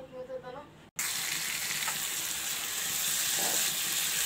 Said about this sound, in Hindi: अब इसको तेज चूल्हे पे हम भूनेंगे ताकि टमाटर और बोटियों पर लगा लहसुन अदरक अच्छे तरीके से भून सके।